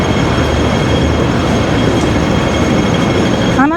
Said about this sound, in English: these trams, they call them ding-dings.